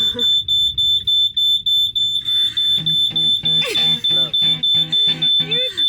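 A loud, high-pitched fire alarm inside a van beeps in rapid, even pulses throughout, with a person talking over it in the second half.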